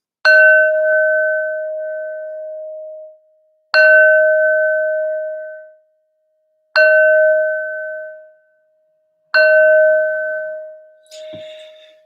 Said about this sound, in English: Let's do the bells.